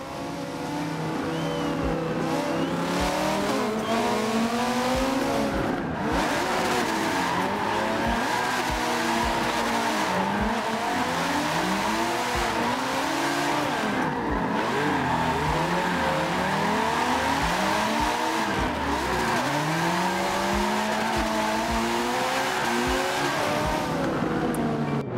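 An Audi wagon drifts in Forza Motorsport during an esports wagon drift battle, its engine revving and rising and falling in pitch while tires squeal continuously, loud and close, with no talking.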